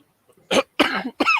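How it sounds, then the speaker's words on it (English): A person fighting a cold coughs three times in quick succession, close and fairly loud, with short silences between the bursts. "Sorry, keep coughing."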